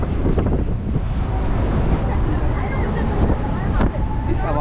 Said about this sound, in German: Ist aber auch extrem windig.